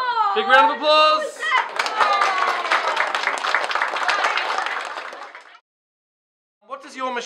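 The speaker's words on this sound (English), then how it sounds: "Big round of applause!" An audience claps loudly and steadily for several seconds after a Rube Goldberg machine demonstration, dense applause that cuts off abruptly, with voices speaking briefly before and after.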